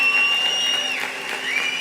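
A church congregation in Brazil stands and applauds, a steady wash of clapping with a little cheering, moderately loud under sustained musical tones, briefly.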